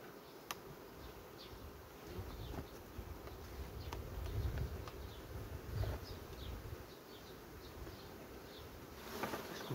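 Honey bees buzzing around an opened beehive during hive work, a dense continuous drone of many bees close by with small knocks and shifts, no talk.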